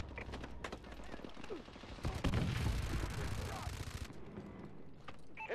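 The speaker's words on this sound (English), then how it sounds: "Enemy missile strikes." Missile strikes and heavy gunfire in a Call of Duty Advanced Warfare Domination match, a dense barrage of blasts and rapid shots swelling loudest in the middle, with in-game voice callouts over the din.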